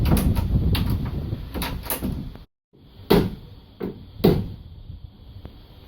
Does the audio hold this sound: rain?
no